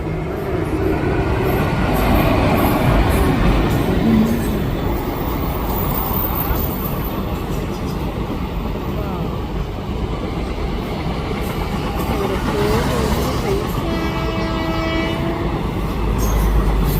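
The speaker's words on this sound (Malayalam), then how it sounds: "ഈ വശത്ത് കൂടെ ട്രെയിൻ വരുന്നത് കാണാം കേട്ടോ." A train passing close by produces a loud, continuous rumble of wheels and cars that lasts throughout, with horn tones sounding near the end.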